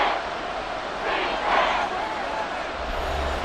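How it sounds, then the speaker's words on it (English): Stadium crowd in the Madden 24 football video game, Giants against Saints, a steady broad roar that swells to a louder cheer midway and stays dense throughout. "This crowd turning up the decibel level."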